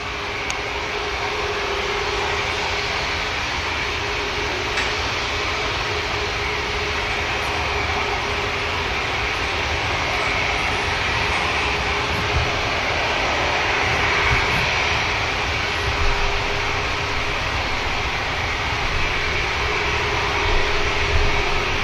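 EasyJet airliner's jet engines idling while it waits for clearance on a taxiway at Manchester Airport, a steady, broad roar with a faint whine, continuous and fairly close, with no talk.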